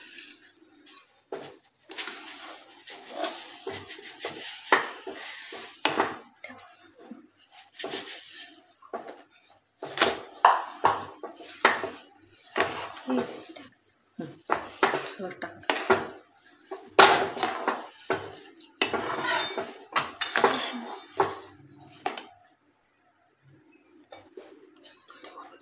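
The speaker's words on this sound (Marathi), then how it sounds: "साखर छान मिक्स करून घ्यायची आहे" A spoon stirring sugar into semolina sheera in a metal pan, with irregular scraping and clinking strokes at close range and no voices heard.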